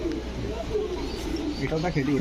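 Pigeons cooing at a busy pigeon market, low soft coos and a few chirps mixed with crowd noise and people talking nearby.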